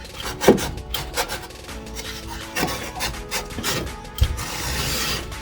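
A small hand sander rasps across the cut edge of drywall in a few separate scraping strokes, close by and uneven, with short pauses and knocks between passes.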